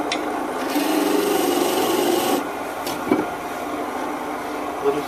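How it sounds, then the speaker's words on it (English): A handmade parting tool cut down from a lawnmower blade rasps steadily against wet wood spinning on a Jet lathe, a close, continuous scraping that stops after a couple of seconds, followed by quieter lathe running and small knocks. "Let's try a different parting tool."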